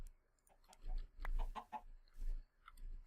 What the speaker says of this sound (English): Get out of there, chicken!